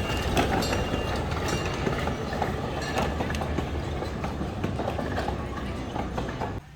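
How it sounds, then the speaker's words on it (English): A train passing near the Smithville shops in Galloway, New Jersey, heard as a steady close rumble and rhythmic wheel clatter that runs on without pause. "Here comes the train again."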